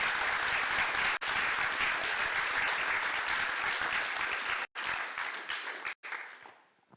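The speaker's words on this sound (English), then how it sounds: "So that deserves a clap" An audience at a conversation event with artist Vincent Namatjira bursts into loud, sustained applause, dense and even, with a couple of brief breaks before it fades away at the end.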